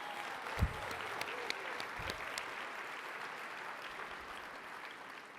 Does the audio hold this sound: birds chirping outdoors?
no